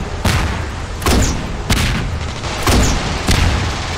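Grenade launcher rounds fire and explode in the game Ravenfield, four loud booming blasts arriving at roughly regular intervals, each with a short rumbling tail, with no talking.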